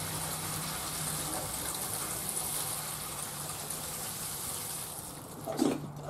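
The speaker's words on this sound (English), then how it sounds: "we get the watering can and we give it a good soaking" Water pours steadily from a watering can onto plants in buckets at an allotment, a continuous close gush that tapers and splashes briefly at the end.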